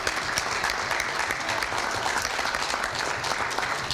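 Dense, sustained applause from an audience honoring panelists at a community health event in Hamilton, an even roar of many hands clapping for the full four seconds.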